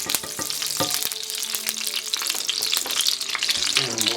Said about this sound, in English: I'm adding some clarified butter that I made. Turn down the heat a bit.